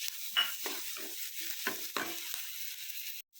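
Green chilli and coriander paste sizzles in a hot pan, with a steady high hiss and several soft stirring scrapes, fairly faint and close.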